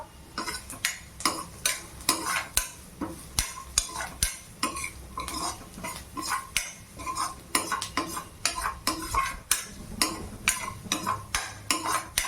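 Paneer bhurji is stirred in a frying pan with a metal spoon, producing steady repeated scraping strokes against the pan over a soft sizzle, close and fairly loud, with no talking.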